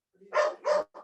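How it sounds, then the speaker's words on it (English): A dog barks in the background of a budget committee meeting, giving two clear barks and a softer third in quick succession, fairly close and with no talk over them. "somebody has a dog in the background."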